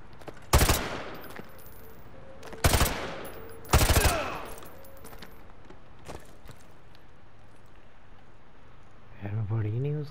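Gunfire in the Call of Duty: Modern Warfare 2 campaign: three sharp, loud single shots a couple of seconds apart, each with a short echoing tail, then quiet ambience and a brief voice at the end.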